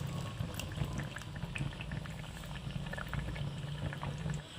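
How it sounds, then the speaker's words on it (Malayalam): Thick first-extract coconut milk pours into a simmering Kerala-style prawn curry, producing a steady close bubbling and liquid gurgle throughout, with no talking. "ഇനി നമുക്ക് 1/2 കപ്പ് ഇതിലേക്ക് 1 പാൽ ഒഴിച്ചു കൊടുക്കാം."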